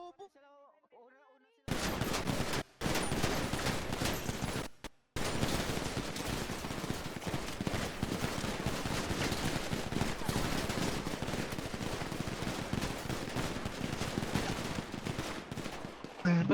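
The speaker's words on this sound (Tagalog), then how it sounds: "O, ba't may bumabaril dyan?" Sustained bursts of rapid gunfire from the video game GTA, loud and dense, with a near-continuous rattling barrage after a brief quiet start and two short gaps.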